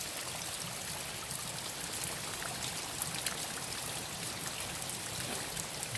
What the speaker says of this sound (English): we had some rain earlier this morning